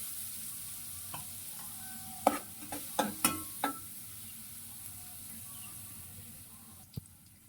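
Shrimp masala frying in a pan with onion, ginger and garlic paste while stirring for a prawn and bottle gourd curry, giving a low steady sizzle under a cluster of sharp spoon scrapes and clinks, then one more clink near the end.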